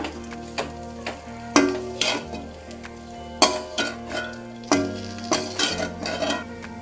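A pan of chilli parotta mixture being stirred, with repeated metallic clinks and scrapes of a spoon against the pan over a steady sizzle of frying, loud and close, and no one speaking.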